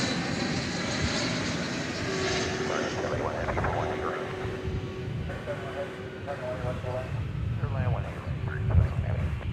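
An Airbus A380 jet at DFW Airport gives off a broad, steady engine roar that holds for the whole stretch, with a rising tonal whine partway through and a voice talking over it.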